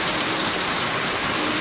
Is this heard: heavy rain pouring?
yes